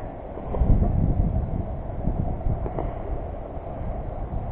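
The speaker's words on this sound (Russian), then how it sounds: "И, конечно, ветер боковой, петлю выдувает жутко" Strong side wind during a New Year's fishing trip rumbles across the microphone as a steady, close buffeting roar with uneven gusts, continuous and without talk.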